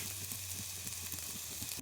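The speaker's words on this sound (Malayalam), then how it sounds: "അതിലേക്ക് ഇനി വറുത്ത് കോരിയെടുക്കുന്ന സവാള ഇട്ട് കൊടുക്കാം" Sliced onions frying in hot ghee for an old-style biryani, a steady, bright sizzle with fine popping bubbles and a low constant hum beneath, with no voices.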